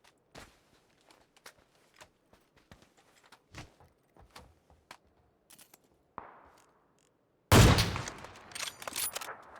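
Sparse sharp gunshots from the video game PUBG, pistol and sniper fire cracking singly at irregular intervals, followed by a loud dense burst of gunfire near the end.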